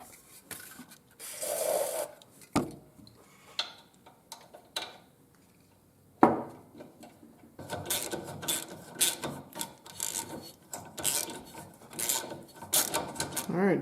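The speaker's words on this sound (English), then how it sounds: "tap went all the way through" A thread tap is worked by hand into a worn bolt hole on a Jeep Wrangler YJ motor mount, giving intermittent ratcheting clicks and scraping metal bursts separated by quiet pauses, then a denser run of rapid clicks near the end.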